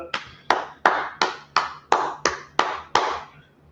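Nine separate claps from a class, sharp and evenly spaced about every half second, close and fairly loud with short decays between.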